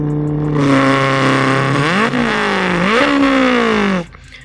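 A voice imitates a Lamborghini engine revving with a loud, continuous nasal drone that rises and dips through two upward surges, then switches to a 4-cylinder sound before cutting off near the end.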